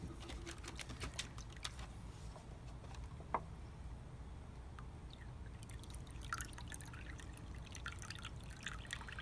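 Water is decanted off tomato seeds in a container, giving faint drips and a soft trickle with a few light splashes near the end, quiet and close by.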